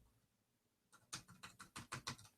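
Computer keyboard keys are pressed in a quick run of about seven distinct clicks after a quiet start, close and fairly soft, with no talking.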